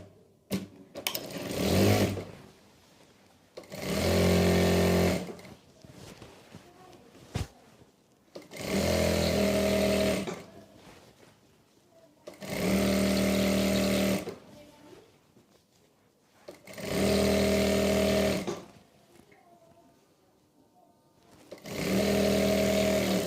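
A sewing machine runs in repeated bursts of a few seconds each while salwar seams are stitched, with short pauses between runs and light handling noise in the gaps.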